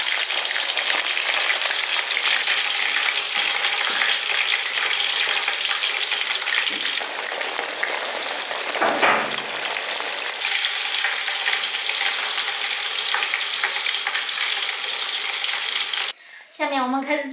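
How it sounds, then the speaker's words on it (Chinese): Crucian carp frying in hot oil until golden, a loud close continuous sizzle that holds steady throughout and cuts out briefly at the very end. "把鱼的2面煎至金黄"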